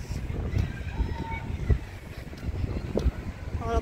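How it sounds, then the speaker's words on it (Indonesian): Cold wind blows outdoors near a playground on a bright but chilly day, a constant rushing buffet against the microphone with a few faint thumps and scattered voices beneath. "Ini dingin banget ya, berangin-angin."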